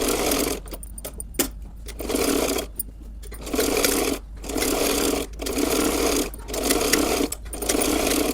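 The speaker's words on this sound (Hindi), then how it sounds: "इस पर एक सिलाई लगाऊंगी चारों तरफ" A sewing machine stitches a salwar suit in loud, close bursts of rapid mechanical whirring, stopping and starting several times with brief gaps between runs.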